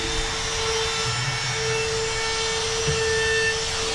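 A small wood router spins at full speed with a loud, steady whine while a 1/8 inch bit eases an edge; the tone stays constant, with a brief rougher patch as the bit bites.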